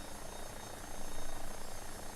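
An X-Trident AW-109 helicopter in the X-Plane 12 flight simulator makes a steady, dense rotor and turbine roar that swells slightly midway, heard alone.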